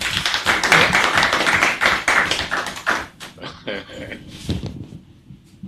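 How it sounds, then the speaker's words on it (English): A workshop audience bursts into loud, dense applause that thins into scattered claps and then stops, with a few hand claps trailing at the end. "thank you for clapping"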